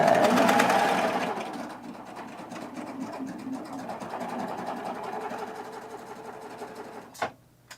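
A serger sewing machine runs fast and steady for several seconds to clear the thread while finishing boy shorts, loudest at the start, then settling to a constant whir before a brief clatter as it stops.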